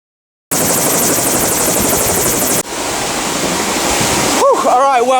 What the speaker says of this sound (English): the chopper arrived